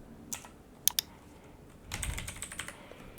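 Fingers tap on a computer keyboard while entering text: a few isolated, crisp key clicks, then a short flurry of rapid typing, all fairly quiet against a soft room background.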